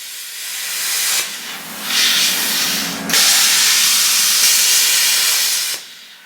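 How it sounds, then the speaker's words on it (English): A plasma cutter runs in loud, steady hissing bursts while it cuts brackets off near a vehicle axle. It starts and stops several times, with short pauses between cuts, and there is no talk. "what I'm doing is I'm using the pilot arc to initiate the plasma strike"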